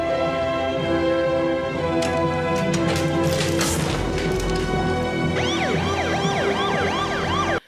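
An ambulance siren wails continuously in a film scene, loud and steady, shifting partway through into a faster rising-and-falling whoop, with a low rumble underneath and no speech.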